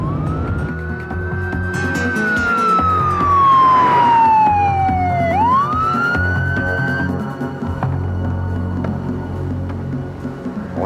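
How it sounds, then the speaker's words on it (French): A police siren wails in a rising and falling sweep, loud and close, over a steady low hum of traffic and engine rumble. "Et je vous mets la sirène aussi?"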